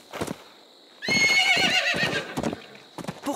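Pony in a cartoon giving a bright, shrill whinny and neigh amid light clip-clopping hoofbeats, close and clear with a few quick hoof knocks before and after.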